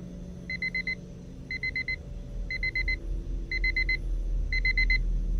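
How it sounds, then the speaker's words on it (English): In the video game Redwood Lake Incident, an alarm clock rings in five evenly spaced bursts of rapid electronic beeps over a low rumbling background, clear and steady, with no one talking. "That sounds like an alarm clock. I should probably find it and turn it off."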